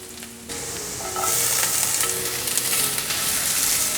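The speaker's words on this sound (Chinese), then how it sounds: "快速翻炒。" Celery and carrots stir-fried in a wok with sunflower oil, a steady loud sizzle that jumps in intensity partway through, with scraping and tossing of the vegetables throughout.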